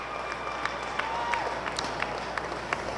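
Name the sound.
fans cheering an athlete at a wheelchair slalom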